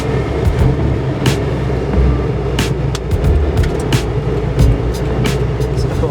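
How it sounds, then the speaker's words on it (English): Classic cars driving past on a runway during a Drive It Day event, a steady engine rumble with road noise and occasional clicks and knocks, fairly close. "Look at all those cars on the runway still."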